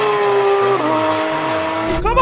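A Porsche 911 GT3 RS drag racing, its engine roaring loud and close with a steady high whine whose pitch shifts, ending in a brief rough burst.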